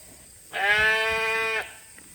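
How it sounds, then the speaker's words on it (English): A single sheep in a barn gives one clear, steady bleat lasting about a second, close and fairly loud over quiet background. "sheep over there."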